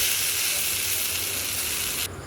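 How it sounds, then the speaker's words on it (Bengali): A dense, steady sizzle of potatoes frying in a pan, close and fairly loud, with a low hum underneath before it drops off abruptly. "ওনাদের জন্য শুধু একটু ভেজে দিচ্ছি"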